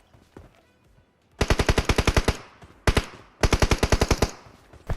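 Automatic gunfire in PUBG Mobile, loud rapid bursts of shots in rhythmic volleys, a short burst, then another long volley, with no talk.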